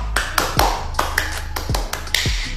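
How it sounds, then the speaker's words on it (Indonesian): Scout-style rhythmic clapping, a quick patterned series of about ten sharp claps in uneven groups, close and crisp with nothing else around them. "beri tepuk pramuka"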